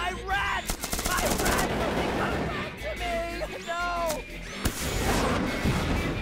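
Rapid gunfire from the video game Manual Samuel, bursts of shots and crashing impacts layered with game sounds and excited talk, loud and busy across the short stretch.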